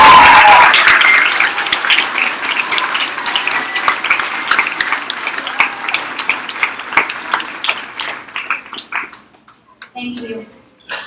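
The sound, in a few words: audience applause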